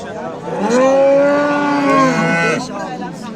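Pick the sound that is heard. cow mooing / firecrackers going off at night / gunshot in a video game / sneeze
cow mooing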